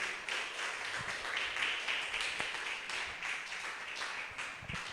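A church congregation applauding during a Sunday worship service, a steady, moderately distant wash of many hands clapping together, continuous and even throughout.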